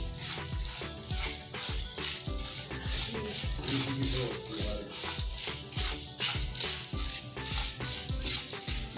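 Food fries in hot ghee in a home kitchen, a continuous bright sizzle broken by repeated clattering stirs and scrapes, close and fairly quiet with no talk.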